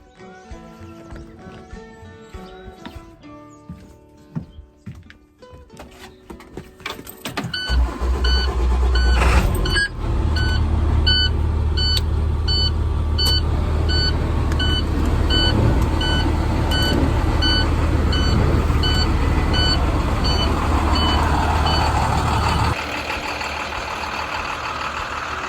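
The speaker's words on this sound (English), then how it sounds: "I'm gonna start the bus." A bus engine on a farm cranks and catches, then settles into a steady loud running drone, while a regular series of high reversing beeps sounds throughout, with no talking.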